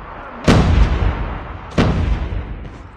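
Two heavy frag grenade blasts go off in a Call of Duty Mobile scrim match, each a sharp, loud boom followed by a rumbling tail, roughly a second apart.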